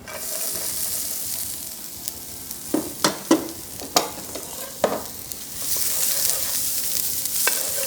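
Onion frying in a pan for a vegan sauce gives a continuous close sizzle, broken by several sharp scrapes and knocks of a utensil stirring, with the hiss rising toward the end and no voices.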